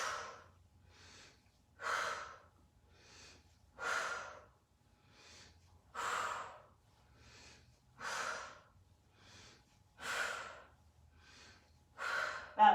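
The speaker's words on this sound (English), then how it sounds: "Exhale on the crunch, inhale on the down." Heavy rhythmic breathing during a hard core workout, with loud, forceful exhales about every two seconds and softer inhales between them, close and without speech.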